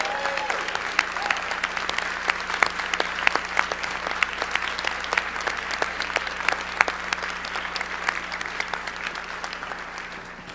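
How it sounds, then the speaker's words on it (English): An audience applauds steadily after a keynote introduction, with individual claps crisp above the dense crowd clapping, holding for about ten seconds before gradually thinning out. "Please give her a round of applause."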